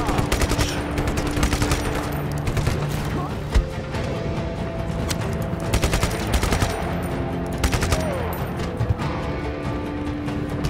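Gunfire in Just Cause 3, with dense bursts of rapid machine-gun shots rattling almost nonstop and scattered sharper single cracks, loud and close throughout.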